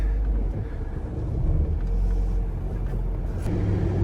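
A 1998 C5 Corvette's engine rumbles low and steady from the cabin as the car starts rolling, with a deep, smooth drone that swells slightly as it moves off.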